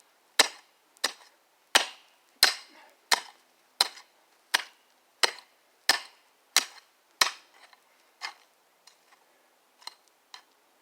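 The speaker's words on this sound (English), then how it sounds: "you can hear all the rocks I'm hitting too." Metal garden tool striking stony soil while breaking ground for a prepper garden, a steady series of about fourteen sharp, close impacts roughly every 0.7 seconds, growing fainter toward the end.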